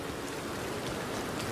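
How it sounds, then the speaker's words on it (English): Steady rain falls across an outdoor scene in Red Dead Redemption 2, a continuous soft wash of drops with no voices heard. "okay, I guess it's raining now."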